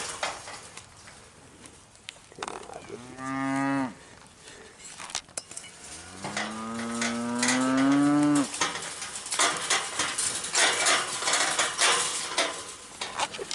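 Cows moo loudly and close on a homestead, a mother cow calling her calf with two long drawn-out calls a few seconds apart, over a busy outdoor background of rustling and clatter.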